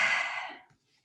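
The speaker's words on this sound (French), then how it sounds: "Maintenant, on va faire une respiration vocale." A single long vocal exhale from a breathing exercise, close and breathy, fading out after under a second into silence.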